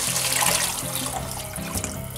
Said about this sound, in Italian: E poi aggiungiamo dell'acqua